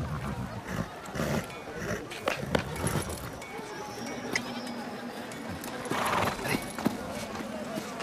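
A horse moves nearby with hoof clip-clops and a brief whinny amid outdoor ambience, while people talk over much of it at moderate loudness.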